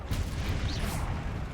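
A Confringo spell blast in Hogwarts Legacy, a brief fiery burst with a rushing explosive roar over a dense, rumbling battle wash.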